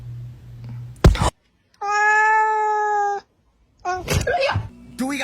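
A fluffy cat gives one long, loud drawn-out meow in the middle, framed by sharp thumps and a sudden bump beforehand and a person speaking briefly afterward, close to the microphone.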